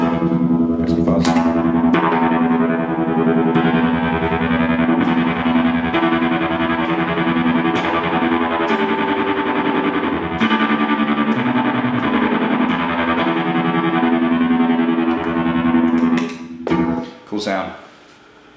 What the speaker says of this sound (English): Make some fuzz.